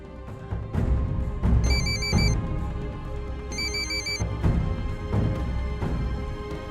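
Phone ringtone repeating unanswered in a domestic drama scene, two bright melodic bursts of ringing over a busy background of music and room noise, fairly loud and close.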